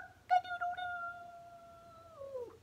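A voice imitates a rooster crowing, one drawn-out tonal call held steady and then sliding downward at the end, close and clear against a quiet background.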